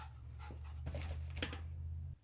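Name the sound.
dog panting and barking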